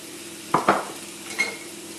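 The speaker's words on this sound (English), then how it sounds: "we're just cooking the sweet potato and onion for about 10 minutes" Sweet potato and onion sautéing in a pan, with a faint sizzle underneath and a few close scraping stirs of a utensil against the pan.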